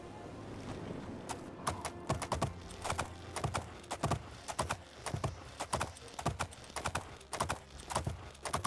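Galloping horse hooves from the video game Oblivion, a rapid, uneven clip-clop rhythm of sharp thuds repeating throughout at moderate volume, with occasional faint game ambience behind.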